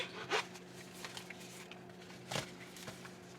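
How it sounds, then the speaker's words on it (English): A zipper on the carrying case of a Lasfit windshield sun shade umbrella gives two faint, brief rasping pulls, up close, with soft handling rustle in between. "and a zipper"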